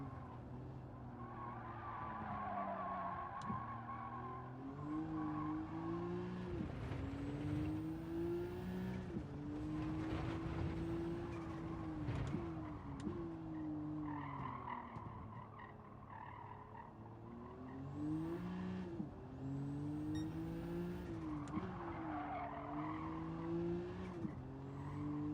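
Race car engine in Gran Turismo 7 online VR racing, revving near the redline with rising and falling pitch sweeps as gears shift, accompanied by tire squeal and skidding, loud and continuous throughout.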